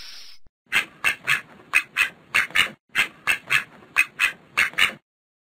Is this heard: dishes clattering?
no